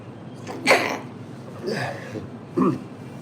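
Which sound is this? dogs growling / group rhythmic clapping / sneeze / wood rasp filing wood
sneeze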